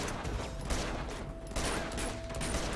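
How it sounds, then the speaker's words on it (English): Rapid shotgun blasts from a video game firefight in Uncharted 2, close and loud, packed into a dense burst of gunfire with mechanical clatter and no talking. "I had like full health and that shotgun just wrecked me"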